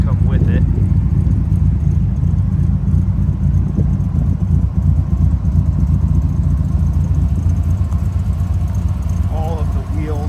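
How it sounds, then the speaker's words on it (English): A 1999 Dodge Viper GTS coupe with a Borla exhaust and a different cam profile, rumbling steadily at close range with a deep, continuous low burble. "different cam profile, which is what you hear with this Borla exhaust. Sounds just awesome."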